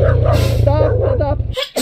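A dog yelps and barks in short bursts at a motorcycle, over a steady low engine rumble that cuts off near the end.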